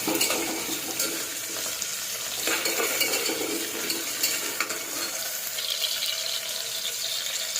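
Onion frying with spices in a pan gives a steady close sizzle, with stirring and scraping throughout and no pauses.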